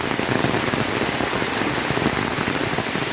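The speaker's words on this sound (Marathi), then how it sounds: "हा पावसाने जोर धरला आता." Heavy monsoon rain pours down steadily in a Konkan village, a dense, loud, unbroken hiss of drops drumming on surfaces with no voices.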